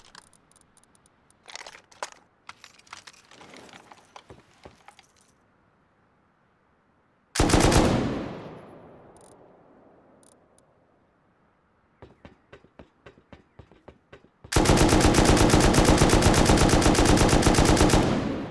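M2 machine gun fire in the game Rust: scattered clicks and short shots first, then a loud burst with a long decaying echo, a few sparse shots, and finally a sustained rapid automatic stream, loud and close.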